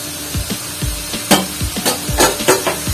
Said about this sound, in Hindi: हिला लेते हैं एक दफा